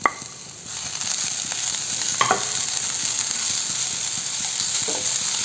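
Onion, slit green chillies, crushed ginger-garlic and curry leaves being stir-fried in a pan, a steady close sizzle broken by a few scraping stirs.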